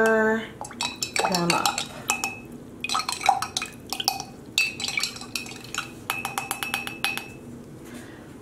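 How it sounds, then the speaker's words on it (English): Quick stirring of white vinegar into several small yarn dye pots, with bright clinks and clatters of a utensil against the containers in irregular bursts, close and fairly soft, with a brief spoken phrase. "1 teaspoon of white vinegar in each of them. And just quickly stir"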